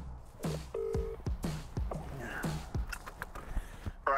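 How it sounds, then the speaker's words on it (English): Phone dialing tones from a call being placed inside a Golf car, a short series of separate electronic beeps heard close and fairly quiet. "let me phone Daniel."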